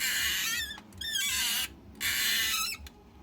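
Squeaky creaking from a KO MP10 Eva toy robot figure's joint comes in two long bursts with wavering pitch, like a stiff hinge being worked back and forth, close and fairly loud.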